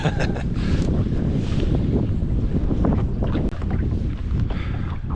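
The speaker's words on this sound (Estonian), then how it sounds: "Tuuleiilid on päris mõnusad vahepeal" Gusty wind at sea buffeting a small fishing boat, a loud, continuous rush of wind noise on the microphone with swells and water sounds, no talk.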